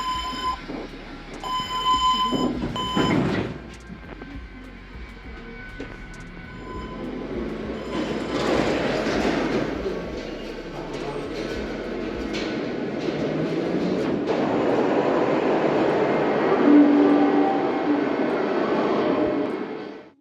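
A Budapest metro train rumbles and hums as it gets moving, its roar building steadily and staying loud, after a brief chime and Hungarian door-closing announcement with door noises at the start.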